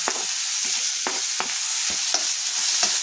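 Vegetables for sambar, onion, cauliflower, beans and tomato, sizzling in a hot pan while a spoon stirs and scrapes them, a steady close frying hiss with repeated stirring strokes and no voices.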